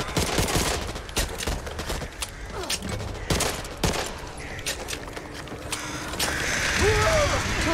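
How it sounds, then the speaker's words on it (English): Weapon reloading in the zombie shooter Back 4 Blood, with mechanical clicks and ratcheting clacks mixed among bursts of gunfire and game noise, fairly loud and busy throughout. "Gotta reload!"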